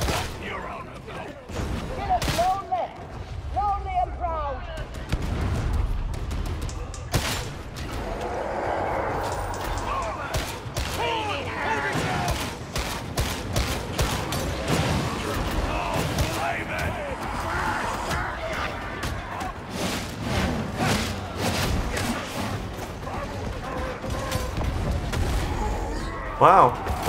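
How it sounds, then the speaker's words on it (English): Enemy gunfire in the video game Warhammer 40,000: Darktide, rapid bursts of shots crackling almost nonstop over game noise, with a player talking throughout. "Stalkers standing up here shooting crap out of us"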